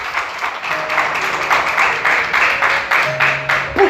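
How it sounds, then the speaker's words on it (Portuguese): A church congregation claps in a steady, rhythmic beat, roughly two claps per second, moderately close and loud over a faint background tone, with a few voices mixed in. "Pode aplaudir Jesus"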